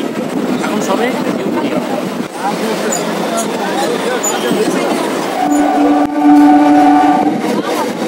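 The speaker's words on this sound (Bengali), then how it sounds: "আর এটা হলো লক্ষ্মীকান্তপুর শিয়ালদা লোকাল" A Lakshmikantapur–Sealdah local train runs past Baruipur toward Sealdah, giving a steady, loud rumble throughout, with a sustained horn-like tone joining near the end.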